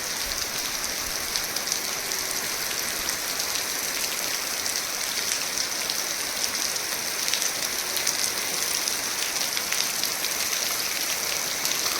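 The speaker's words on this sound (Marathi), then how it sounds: "आणि पाऊस पडतो तर बघूया कसा पडतो पाऊस" Steady monsoon rain falling on surfaces in a Konkan village, a constant hiss with scattered drops pattering throughout, no voices.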